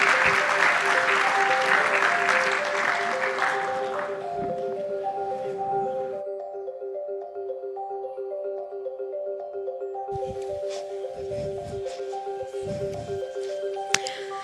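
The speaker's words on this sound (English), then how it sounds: "Please give a round of applause to the members of the panel" Conference audience applauding a panel at a 2023 forum in a Warsaw room, steady clapping for about six seconds over a sustained electronic tone, then quiet, with a few more scattered claps near the end.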